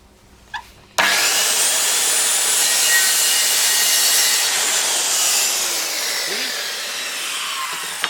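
A Dewalt DWE576K circular saw cuts a small piece of wood, starting abruptly after a faint click and holding a loud, steady high whine through the cut with no talk.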